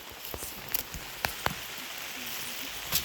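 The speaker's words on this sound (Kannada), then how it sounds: "ಸಣ್ಣಗೆ ಮಳೆ ಬರ್ತಾ ಇದೆ." Light rain falls outdoors near a temple entrance, a steady soft hiss with a few distinct drops tapping close by and no voices.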